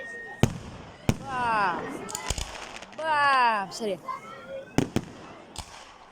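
Fireworks salute bursting outdoors: several sharp explosive bangs spaced across the moment, with whistling rising streaks between them, while people talk excitedly nearby.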